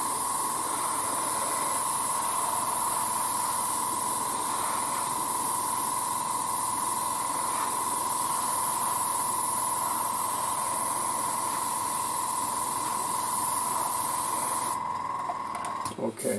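Continuous fine hiss of an airbrush misting paint onto a 1:35 scale KV-2 tank model for winter camouflage, steady and close with a thin high tone, cutting off just before the end.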